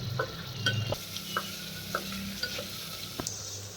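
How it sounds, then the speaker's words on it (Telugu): Sliced onions frying in hot oil for a paneer biryani, with a steady low sizzle and scattered stirring clicks from a utensil, close and fairly quiet, no talking. "ఆయిల్ వేడెక్కగానే ఇందులో మనం ఆనియన్ ముక్కలను ఫ్రై చేసుకోవాలి"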